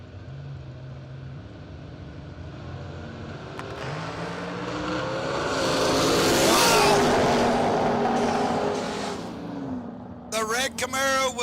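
Race cars on a track, with a first-generation Camaro passing, build from a distant engine drone into a loud swelling roar that peaks and fades as the car goes by, with a commentator talking over it.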